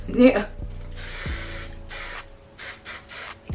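Several short bursts of hair spray hissing close by onto a wig, separated by brief pauses, with some faint background sounds.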